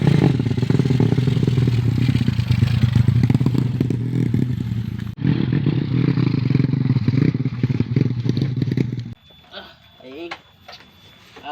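An old, cheap, worn-out motorcycle used for ojek taxi work in Indonesia runs loudly and steadily with rattling clatter for about nine seconds, then cuts off, leaving quiet background sounds.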